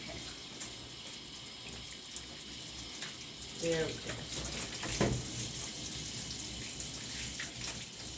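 Tap water runs steadily while a puppy named Lillah is rinsed during her bath, a soft continuous splashing with a few louder splashes near the middle and a brief spoken remark.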